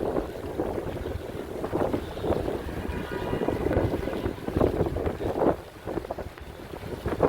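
Strong wind gusts through a snowstorm on North Michigan Avenue in downtown Chicago, a steady, rumbling roar buffeting the microphone for several seconds, with no voices.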